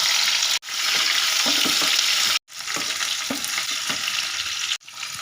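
Cumin seeds and onions fry in hot oil in a kadai. A loud, dense, close sizzle runs throughout with brief cut-off gaps and small popping bursts, and no voices.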